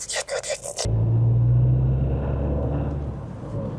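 A car engine kicks in with a sudden low, loud rumble that holds steady and slowly eases off, cutting in right after a few brief knocks.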